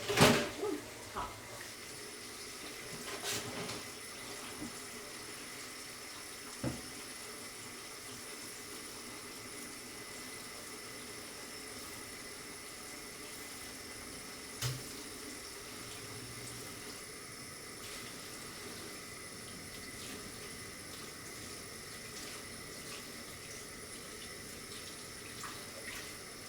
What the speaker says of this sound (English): let me wash this knife